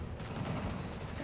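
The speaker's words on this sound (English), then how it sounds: "Need to head toward the gunfire." Distant gunfire attacking a building in the Spider-Man: Miles Morales game, a dull, rumbling barrage of low thuds running steadily without pause and no voices over it.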